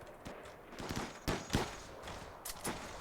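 Gunfire from the colony defense game RimWorld, several irregular sharp shots and short bursts spread across a few seconds over a low, busy background, moderately loud with no talking.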